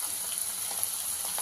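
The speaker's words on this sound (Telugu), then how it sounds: "ఇందులో అల్లం వెల్లుల్లి పేస్ట్ 1 స్పూన్ వేసుకున్నా" Ginger garlic paste frying with onions in hot oil for an egg curry, a constant close hissing sizzle with faint bubbling pops throughout, no voices.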